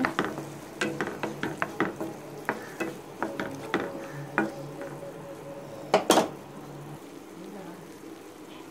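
A spoon stirs dal into a banana stem stir-fry in a pot, making a run of soft, irregular scrapes and clacks against the metal over a faint sizzle. Two sharper knocks land near the end before it quiets.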